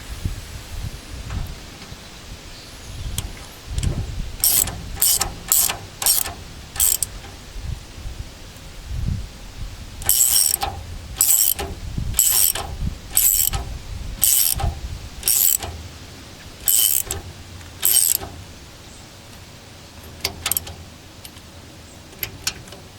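A ratchet wrench tightens bolts on a Howse brush hog, giving crisp, fast clicking strokes in quick repeated runs with brief pauses between sets, close and loud.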